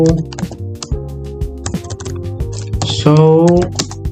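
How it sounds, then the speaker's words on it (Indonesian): Fingers type a network command on a computer keyboard, giving a quick run of crisp clicking keystrokes at close range, mixed with a faint voice and tonal background sounds. "kita ketikkan saja untuk mengeceknya. Kita ketikkan show"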